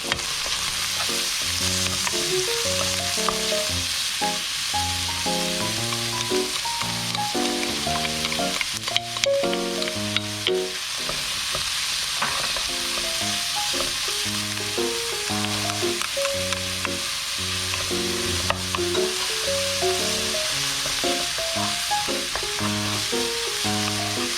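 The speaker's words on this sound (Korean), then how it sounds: "고기와 양념이 어느 정도 볶아지면" Meat with pepper, salt and seasoning sizzles and crackles steadily in a hot pan as it is stir-fried outdoors in a mountain setting, a loud, continuous frying hiss with occasional stirring scrapes.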